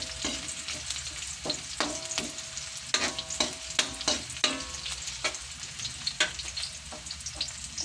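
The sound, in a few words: crushed garlic and onion sautéing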